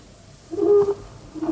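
An owl hoots once, a short low hollow call at moderate loudness over a quiet background, used as a midnight effect in an old radio mystery drama, with a fainter second tone trailing after.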